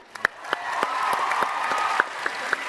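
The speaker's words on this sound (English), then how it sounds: "Cheer for Henry." A convention panel audience at TwitchCon Amsterdam applauds and cheers, a steady wash of clapping with a few sharper claps and whoops standing out, fairly loud and sustained.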